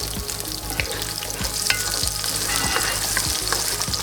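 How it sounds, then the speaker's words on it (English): Garlic and chili flakes fry in a pan with a bright continuous sizzle, cut by regular low thuds and scrapes of a stirring utensil roughly every two-thirds of a second, close and without speech. "So we're gonna cook the garlic, and I'm gonna add a little bit of chili flakes with it."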